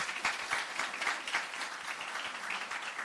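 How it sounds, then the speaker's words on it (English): Steady applause from a crowd, many hands clapping together in a dense, even patter that holds for a few seconds. "Give him a round of applause"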